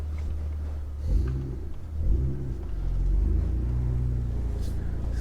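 A BMW E36 M3 engine turns over and settles into a steady idle, a deep low rumble with a couple of brief surges near the start before holding an even, close-up drone.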